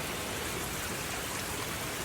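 Heavy rain pours steadily on and around a nipa hut, a dense, even hiss with no other sound.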